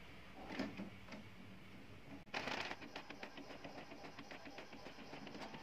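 A photocopier copies a mobile phone, a sharp clunk followed by a steady rhythmic mechanical chatter of the machine running, fairly quiet and close.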